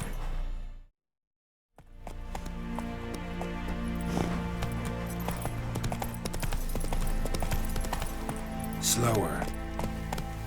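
Horse hooves clip-clop steadily in the video game The Witcher 3, a rhythmic trot close by after a brief silence, joined by game music and a voice that speaks briefly.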